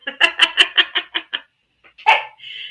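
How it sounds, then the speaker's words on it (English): A dog barks in a quick run of about seven sharp, evenly spaced barks, pauses, then lets out one more loud bark followed by a short whine, close by with no talking. "I gotta let my dog out."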